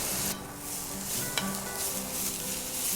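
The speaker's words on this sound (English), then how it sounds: "making sure that oil sizzles." Olive oil sizzles steadily in a warmed pot while coconut curry is started, a loud continuous hiss with a brief clink partway through; no voices.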